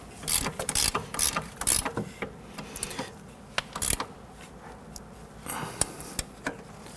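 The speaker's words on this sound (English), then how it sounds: "We're going to use our Allen key here. This is a 5 mil." A 5 mm Allen key ratchets against strut nuts during front strut assembly installation on a 1992-1996 Toyota Camry, giving quick bursts of close mechanical clicking separated by short pauses.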